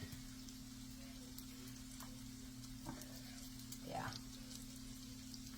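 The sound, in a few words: crab cakes frying in oil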